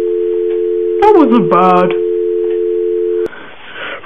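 Telephone line tones right after a prank call is hung up: a steady dial tone drones loudly, broken by a quick run of beeping, warbling tones, then cuts off abruptly into faint room noise. A voice speaks briefly over the tones.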